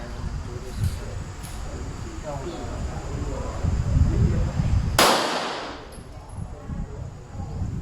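Pistol fired with a low grip, its slide then jamming and failing to feed the next round: one sharp, loud shot near the end, ringing out over steady outdoor background noise.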